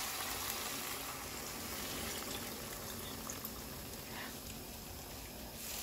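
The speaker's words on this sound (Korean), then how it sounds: "이럴 때에 물을 넣어주세요" Water is poured into a pot of pork and kimchi stew as it cooks, making a continuous, fairly even hiss and splash that lasts the whole moment. No voices are heard.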